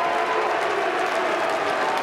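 Crowd of Republican delegates at the Utah GOP convention booing Senator Mitt Romney, a dense, steady roar of many voices sustained at even loudness throughout, with no single voice standing out.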